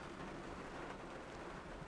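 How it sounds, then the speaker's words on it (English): Heavy rain pours down on a farm during first-cut silage, a dense, continuous hiss of rain on surfaces, steady and enveloping, with no talking. "Absolutely smashing down with rain now."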